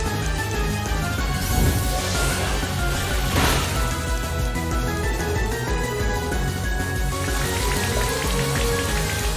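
Steady, dense rain patter in Pokémon Brilliant Diamond fills the whole stretch, loud and continuous, with layered tones running underneath and a couple of brief swells.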